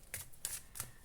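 Tarot cards are shuffled for a love reading, three quick soft riffles in about a second, quiet and close with no talking.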